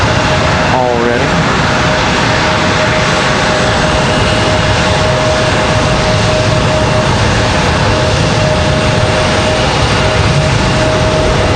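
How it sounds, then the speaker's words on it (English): A WestJet Boeing 737-700 pushes back at Raleigh-Durham airport, its engine noise a loud, constant broadband roar with a steady whine held throughout and a brief warbling tone near the start. "Looks like WestJet and their 737-700 pushing back here already."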